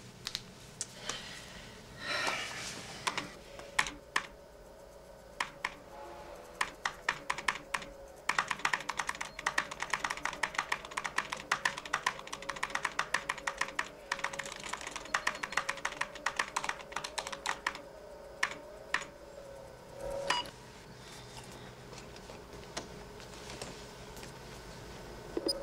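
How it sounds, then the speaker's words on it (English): Someone types steadily on a computer keyboard, with quick irregular bursts of key clicks that speed up into rapid continuous typing in the middle, close and clear against a faint hum. "Just use the keyboard."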